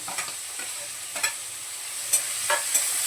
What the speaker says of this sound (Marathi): याबरोबर टमाटा पण परतून घेते चांगला